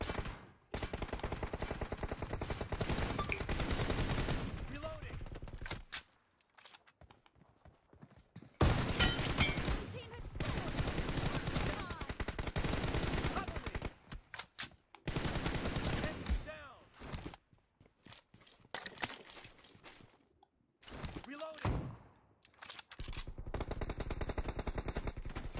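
Sustained bursts of shotgun and automatic gunfire from a BGMI squad match, loud and dense, broken by a few short quiet gaps with faint voices beneath.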